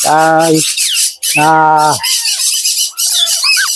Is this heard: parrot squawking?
yes